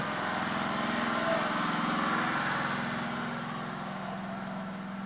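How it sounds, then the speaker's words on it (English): A lawnmower engine drones steadily and loudly throughout, with a low, even hum that never changes pitch. "with the sound of a lawnmower"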